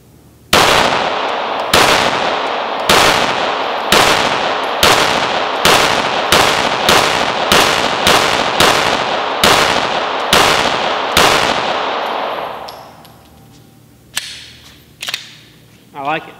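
A Glock 19 pistol fires about a dozen loud, close shots at a steady, quick pace at a shooting range. A few lighter clanks and handling noises follow after the firing stops.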